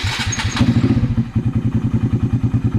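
A Honda Grom motorcycle fitted with a Koso AFR gauge idles up close, its single-cylinder engine putting out a loud, steady, rapid chugging pulse after a brief rev at the start.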